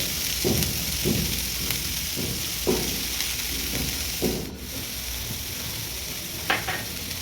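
Chopped onion frying with chillies in a pan, a steady sizzle throughout with soft stirring scrapes at regular intervals and a brief knock near the end.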